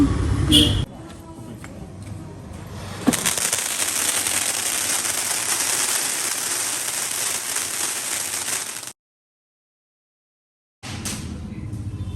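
A loud crack followed by a long, dense crackling burst like firecrackers going off, then a sudden silence before the noise resumes.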